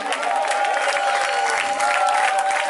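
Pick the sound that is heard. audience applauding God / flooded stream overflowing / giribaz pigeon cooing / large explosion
audience applauding God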